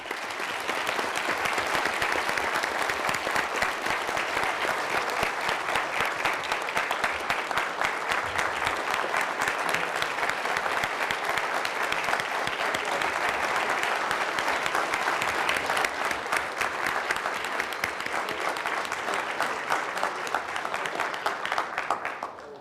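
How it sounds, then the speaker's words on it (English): Audience clapping for survivors at the Hearts & Heroes 2024 event, a dense, sustained round of applause from a sizeable crowd, steady and loud throughout with little else audible. "Let's give a big round of applause for these survivors."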